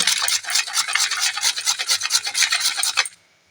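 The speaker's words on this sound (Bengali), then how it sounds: "গেটারের সাহায্যে ভালো করে এটাকে গ্রেড করে নেব" Beetroot scraped against a hand grater in quick, steady back-and-forth rasping strokes, close and fairly loud, for about three seconds before stopping abruptly.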